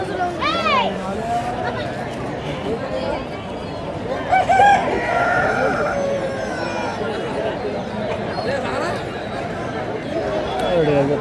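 Country chickens at a village poultry market, where a rooster crows close by near the start over continuous crowd chatter and people talking throughout.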